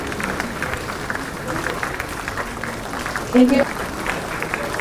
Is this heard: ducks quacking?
no